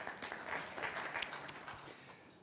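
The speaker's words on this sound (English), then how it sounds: "A round of applause," A small crowd at a conference in Kigali, Rwanda claps together in a steady patter that fades slightly toward the end, heard faintly from a distance.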